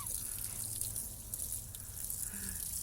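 Water draining from a 7.3 IDI diesel engine during an oil change, a faint, steady trickle and drip into a catch pan, close by and continuous.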